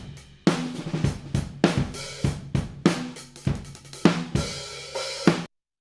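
Raw drum kit picked up by a pair of Rode ribbon overhead microphones, with a steady groove of kick, snare and cymbal hits sounding close, dark and full, alone with no talking.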